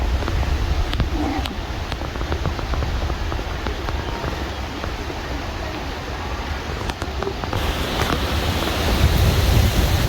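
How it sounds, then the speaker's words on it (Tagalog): Strong wind roars steadily against the microphone outdoors on a hiking trail at Diamond Hill, a broad rushing noise that swells louder toward the end. "It's so windy now, and the weather is 15 degree."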